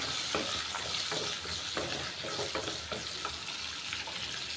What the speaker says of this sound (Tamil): ஒரு இருபது சின்ன வெங்காயம் ஒரு பத்து பல்லு பூண்டு கொஞ்சமாக கருவேப்பிலை சேர்த்துக்கிறேங்க நல்லா வதக்கிக்கிறலாம்